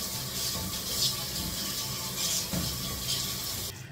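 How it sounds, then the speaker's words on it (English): Running tap water splashes into a kitchen sink while plastic food containers are rinsed off, a steady close gush with small knocks and splashes, cutting off just before the end; no talking. "I always have to wash off my containers here when I'm done."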